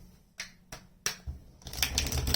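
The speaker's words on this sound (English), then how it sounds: "Do one more shuffle." Sharp snapping clicks of tarot cards being riffled, a few separate flicks followed by a rapid flurry of shuffling, close and crisp.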